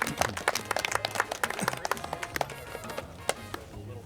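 Audience applause at a disc golf event: quiet scattered clapping from a small outdoor crowd, irregular and fairly distant, with no talk over it.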